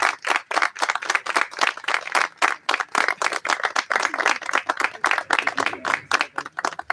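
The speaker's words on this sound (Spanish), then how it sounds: "acompañamos con un fuerte aplauso este importante momento." A small crowd claps at the inauguration of new sewer works in Barrio San Jorge, with sharp individual handclaps standing out close by in a loose, uneven rhythm that keeps going for several seconds.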